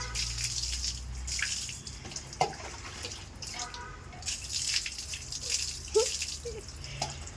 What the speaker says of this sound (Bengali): রিওর দেখো এক মাস পরে চান করাচ্ছি